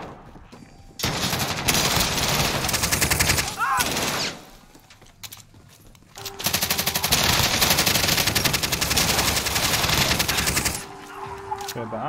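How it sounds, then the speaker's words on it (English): Sentry gun in a video game firing in long, dense automatic bursts, loud and close, with a brief lull midway before the stream resumes; gameplay noise and some talk mixed in. "sentry gun is killing someone"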